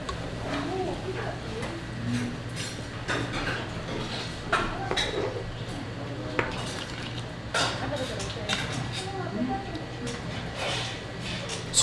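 A metal spoon clinks and scrapes against a bowl of seonji gukbap, blood sausage soup, at a restaurant in Andong, with irregular light taps over a background of room murmur and voices.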